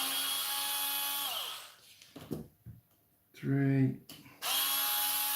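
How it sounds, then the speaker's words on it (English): A small power drill whirs in bursts while a Tamiya Lunch Box mini SW-01 RC kit is built, its motor spinning up, cutting out and restarting, with a brief spoken word between runs. "Choose a drill."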